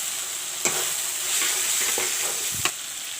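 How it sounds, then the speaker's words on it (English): Masalas and chana frying in a pan with a soft, steady sizzle, broken by a few sharp scrapes and knocks as the spoon stirs, close and fairly quiet, no voices. "Let the masalas fry. The masalas turn brown. Now put in the chana."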